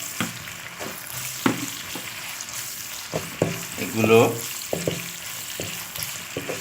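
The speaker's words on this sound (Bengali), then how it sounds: "পেঁয়াজ কুচিগুলো দিয়ে একটু নেড়ে চেড়ে" Chicken, chopped onion and green chilli sizzle and fry in a pan, with repeated scraping stirs of a spatula at an uneven rhythm, close up, while a voice briefly speaks.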